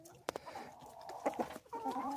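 Crevecoeur and silkie mix chickens clucking close by, a couple of sharp calls followed by softer chattering and a rising warble.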